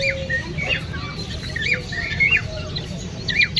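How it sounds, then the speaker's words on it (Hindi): A yard of chickens, fancy pigeon breeds and parrots gives repeated bright squawks and chirps over a steady low background hum, with no talking. "माशाल्लाह यहाँ पर बहुत ही खूबसूरत बर्ड्स हैं।"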